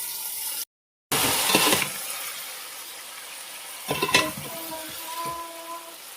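Marinated vegetables tipped into hot oil for biryani, a loud sizzling burst that fades, then a stirring clatter and renewed frying later, with no talk.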